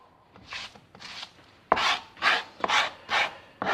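A flat knife blade crushes finely diced garlic into a paste on a board, making rhythmic rasping, scraping strokes, two softer ones followed by five firmer, louder drags close by, with no talking.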